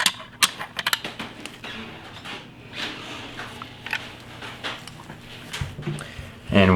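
Metallic clicks, slides and scrapes come up close as the bolt of a Remington 870 Express pump shotgun is fitted back into its grooves during cleaning, in irregular bursts.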